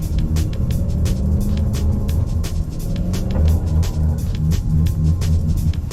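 A Dodge Charger struggles for traction in snow, its engine rumbling steadily and loudly up close with throbbing revs and repeated sharp ticks for about six seconds.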